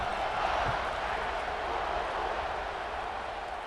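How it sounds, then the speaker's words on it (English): A steady, broad murmur of a stadium crowd at a college football game in EA Sports College Football 26, a continuous roar with no clear peaks and no voices standing out. "this crowd is buzzing after that last score"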